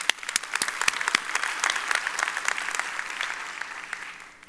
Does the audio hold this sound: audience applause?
yes